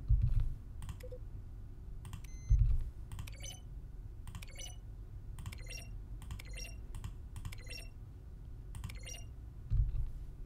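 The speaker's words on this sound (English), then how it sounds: "A selection of the sounds used throughout the game when buttons are pressed. Each sound is a mix of a keyboard stroke and a synthesized tone." Button press sounds from The Stanley Parable video game, each a keyboard keystroke mixed with a short synthesized tone, played one after another in a row of distinct clicks and beeps.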